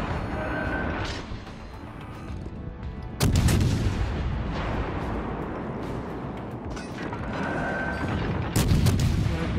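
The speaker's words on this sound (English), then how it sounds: "I'm opening fire." Naval guns fire in World of Warships: Legends, with heavy booming salvos over a constant rumbling battle bed and a second loud volley later on.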